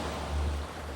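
Sea waves produce a steady broadband wash of noise with a soft low swell rising and falling, continuous and without voices.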